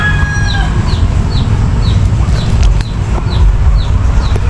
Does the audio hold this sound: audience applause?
no